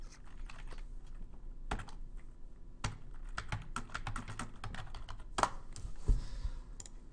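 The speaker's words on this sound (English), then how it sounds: "Alright, so I typed it." Computer keyboard typing, steady irregular key clicks with a few louder keystrokes standing out, close and alone.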